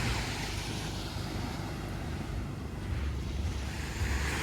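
Steady roar of surf and wind at Dinadiawan beach, a dense, continuous wash of breaking waves with rumbling wind buffeting the microphone, loud and unbroken throughout.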